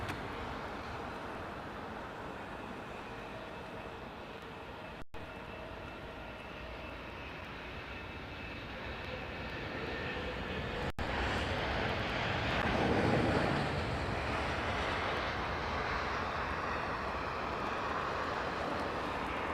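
An Airbus A340 airliner landing in challenging conditions produces a continuous jet engine roar that swells louder in the second half, with a breathy wind-like hiss layered over it.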